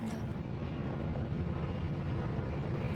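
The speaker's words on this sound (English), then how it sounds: "Airplane." Airplane passing overhead near an airport in Australia, a steady low broadband roar with a rumbling, wind-like texture, fairly loud and continuous without talk.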